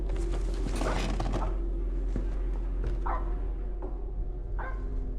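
A dog barks a few times in a tabletop spooky game-show setting, short sharp yelps standing out over a steady low background hum, with no talk during the barks.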